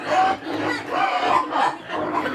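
Chickens cluck and cackle in uneven bursts close by, several birds calling over one another with brief pauses between.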